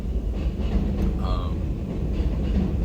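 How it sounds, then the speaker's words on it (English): Train passing nearby, a continuous heavy low rumble lasting the whole stretch, with a brief faint high squeal partway through. "yet another train passing."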